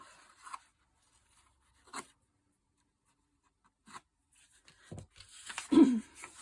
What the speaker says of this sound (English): I'm just going to rip that off.